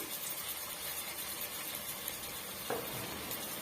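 Ginger garlic paste sizzling in a pan with half-sautéed onions for a chicken gravy, a steady, quiet frying hiss with a few soft stirring scrapes.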